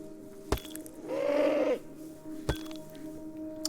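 One sheep bleats in the game Rising World, a wavering, nasal call of under a second, heard close and alone between two sharp clicks.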